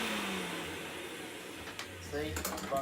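A refurbished MAXVAX vacuum cleaner runs with a steady, even motor whine and broadband airflow hiss, close and continuous, with a faint pitch shift and a few small clicks near the end.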